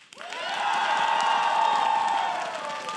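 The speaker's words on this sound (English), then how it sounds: "It's pretty loud applause." Crowd at a League of Legends esports show breaks into applause and cheering, a quick rise into loud sustained clapping with voiced shouts and whoops ringing over it, tapering slightly at the end.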